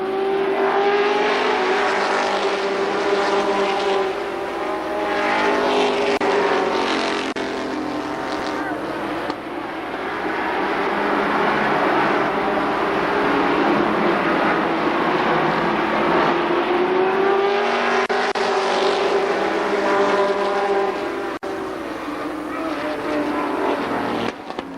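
ARCA Pro 4 race cars at Columbus Motor Speedway roar nonstop in a loud, dense engine drone that swells and fades as the pack passes.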